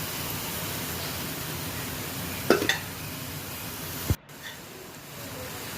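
Bread gulab jamun balls frying slowly in oil, a soft, even sizzle with a couple of brief scraping knocks partway through and a sharp clunk near the end, after which the frying turns quieter.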